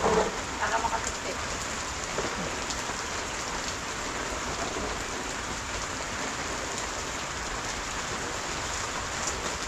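Steady, dense rainfall hissing and pattering on surfaces, continuous and fairly loud throughout, with a brief faint voice near the start.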